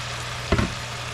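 Pieces of meat hit a hot frying pan with a short, loud burst of sizzle that quickly settles back into a steady low hum.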